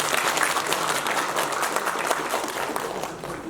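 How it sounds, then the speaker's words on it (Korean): Sustained applause from a seated audience at a regional council policy forum, dense clapping filling the whole stretch at steady loudness, with no speech over it. "큰 박수로 맞이해 주시면 감사하겠습니다."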